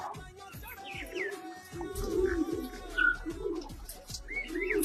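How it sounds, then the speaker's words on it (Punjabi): Pigeons coo close by in soft, repeated throaty phrases, with a few light chirps mixed in and no talking. "ਇਹ ਸੀ ਪੁੰਨੂ ਵਾਲੇ ਕਬੂਤਰ"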